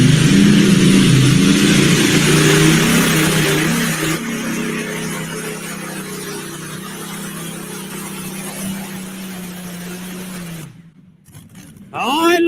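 A pulling tractor powered by a Rolls Royce Griffin aircraft engine makes a pass, its loud, deep, rumbling growl droning steadily and then fading out near the end, with a voice talking over part of it.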